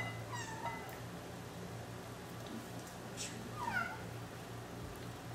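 A kitten gives a few thin, high meows, close by, during its first bath over a low steady hum.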